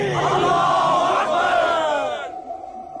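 A large crowd in a movie scene roars a chant in answer to the Naara-e-Takbeer slogan, a loud sustained mass of voices that fades out after about two seconds.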